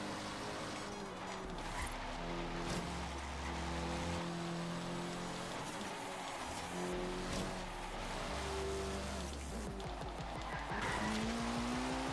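A 2004 Mitsubishi Evo 8 MR in Forza Horizon 3 slides under power oversteer, its tires squealing and scrubbing over a droning, shifting engine note that rises and falls through the run, loud and close with no talk.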